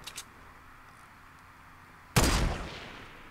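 A Fortnite Battle Royale match gives a faint tap at the start, then near-silence, then one sudden loud gunshot burst whose echo trails off over the last second.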